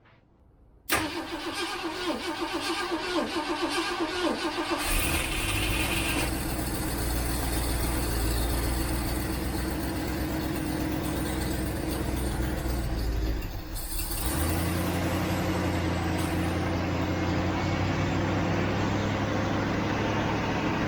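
A 1967 Ford Mustang engine, unstarted for months and on a jump box, cranks and catches at about the one-second mark, then settles into a steady, rough idle that carries on without voices.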